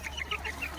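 Farmyard chickens and roosters cluck in the morning, several short close calls rising over a steady low background hum.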